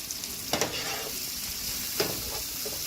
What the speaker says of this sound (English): And let's give it a quick stir.